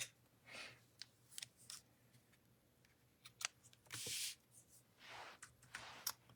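Scissors trim stamped paper cards with daisy designs, making a string of soft, quiet snips and crisp cuts spaced irregularly over a faint background.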